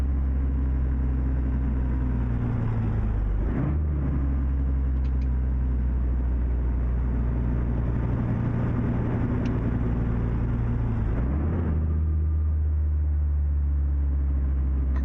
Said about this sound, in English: This engine is nice and it's quite mellow.